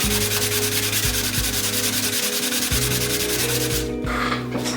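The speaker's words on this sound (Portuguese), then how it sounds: "eu estou lixando nessa lixa de acabamento e depois eu tenho uma outra mais delicada" A device box being sanded by hand with finishing-grade sandpaper, a steady close-up rubbing and scraping in repeated strokes, loud and continuous with no voices.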